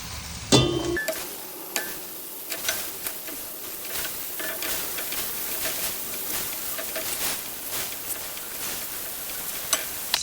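Ground beef and ground pork fry in a pan for spaghetti, giving a steady sizzle with scattered stirring clicks and scrapes throughout, close and moderately loud with no voices.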